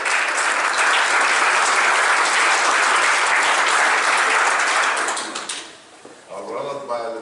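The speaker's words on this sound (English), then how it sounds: "Big round of applause." A business-strategy audience for Bank of Gaborone breaks into loud, dense applause that holds steady for about five seconds, then fades out as a voice begins speaking.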